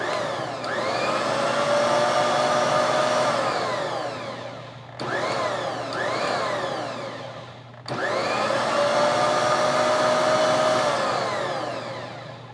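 A Bosch Universal Plus stand mixer running in manual mode, mixing dinner roll dough made with fresh milled flour: a loud steady motor whine with pitch sweeps as it speeds up, broken by two brief stops, with no talk.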